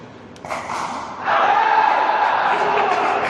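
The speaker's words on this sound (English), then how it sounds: "if you guys can hear the cheering, that's from the court behind" Spectators at a third and fourth place pickleball match on a neighbouring tournament court cheer at a distance, a muffled crowd roar that swells after a quieter start and holds steady.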